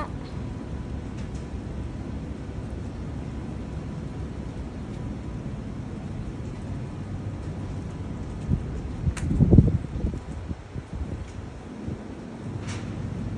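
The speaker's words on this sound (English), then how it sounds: "Can you hear the wind there?" Steady broadband wind roars and rushes outdoors ahead of Typhoon Saola under a typhoon signal number 10, with a louder gust or buffet near the middle before settling back to a constant blow.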